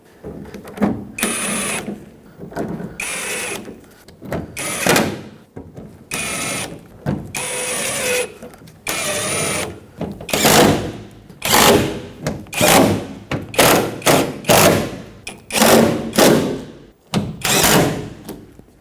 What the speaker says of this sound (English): put all the bolts in and tighten them down